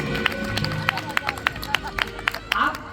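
An audience claps at a religious gathering, a series of sharp, separate hand claps over steady crowd babble and talk, fairly close and loud.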